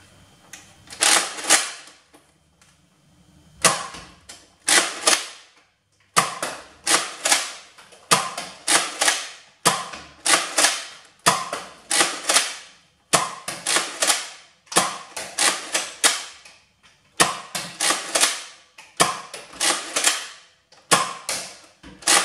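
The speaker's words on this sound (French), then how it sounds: "Je vais tirer un chargeur avec les fléchettes méga AccuStrike et un chargeur avec des fléchettes méga normales." A Nerf Mega Thunderhawk blaster fires Mega AccuStrike darts in a series of sharp, loud mechanical shots. Each shot is a clacking burst followed by priming clatter, repeated in an uneven rhythm with brief pauses.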